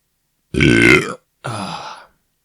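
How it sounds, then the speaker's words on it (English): Two loud, close burps in quick succession, the first long and deep, the second a little shorter and thinner, with silence around them. "Nice, lovely burp."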